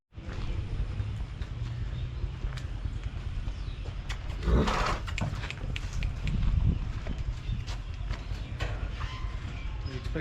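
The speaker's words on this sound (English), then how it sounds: "This one's my horse, the horse that I play with." A horse walks through a garden in Drosh, Chitral, its hooves clip-clopping steadily at close range with a few louder knocks and bumps midway.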